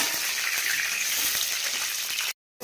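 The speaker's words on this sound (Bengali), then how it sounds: "আলুটাকে দেখো লাল লাল করে ভেজে নিচ্ছি।" Potatoes frying in a pan while being browned for a meat curry with peas, a steady close sizzle that runs continuously, then cuts out briefly near the end before resuming.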